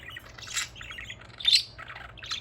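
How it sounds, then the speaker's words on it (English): A pet parakeet chatters nearby in rapid, high chirps and a sharper squawk in the middle, clear and close against a faint low background hum. "Can you see the parakeet?"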